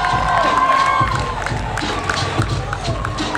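A live crowd at a Berlin DJ event cheers and claps for a DJ, a loud continuous roar of voices and applause with whoops rising above it.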